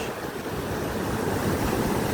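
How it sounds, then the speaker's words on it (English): Rough, cold sea water washing onto an empty beach, a steady broad roar of surf with gusty wind noise over the microphone, continuous and fairly loud with no speech. "Water is a little rough"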